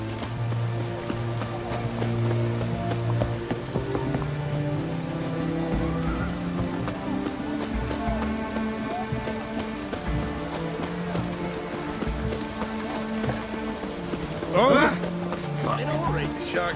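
Heavy rain pours steadily in The Witcher 3 game world, a constant hiss under low droning music and faint voices, with a short sharp burst near the end.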